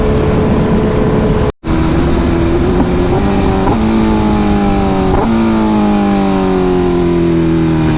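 A 2025 BMW S1000RR motorcycle engine drones steadily during a relaxed street ride. The tone rises and falls through several gear changes, with a short dropout near the start, and no voices can be heard.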